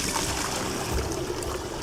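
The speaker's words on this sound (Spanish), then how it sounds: "En este momento vamos a hacer que el agua fluya" Water pours straight down from a basin during a Coriolis effect demonstration at the equator in Quito, Ecuador, a steady broadband splashing rush that stays loud and continuous throughout.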